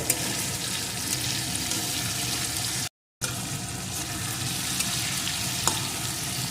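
Chopped tomato and green chillies frying in a pan, a dense steady sizzle close by that cuts out briefly to silence midway, then resumes unchanged.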